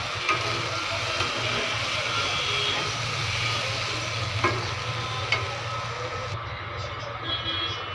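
Constant sizzling of spleen (tilli) frying in a pan, with a low background hum and occasional soft clinks.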